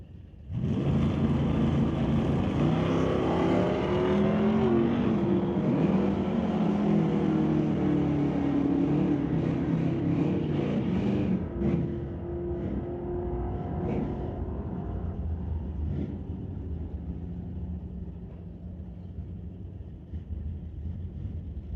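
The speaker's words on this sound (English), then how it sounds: "Northgraves in the 1977 Nova. For the 414 small block Chevy motor will be racing against that 6-stroker Ford Mustang." A 1977 Chevy Nova with a 414 small-block Chevy engine drag races a stroker Ford Mustang; loud, continuous engine roar with rising harmonic sweeps through the run, easing to a steadier rumble in the final seconds.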